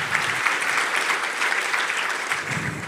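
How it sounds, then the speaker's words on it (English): An audience at a book launch applauds, dense steady clapping from a crowded room that holds at an even level for a few seconds. "can we just give a round of applause to all of you for being here tonight"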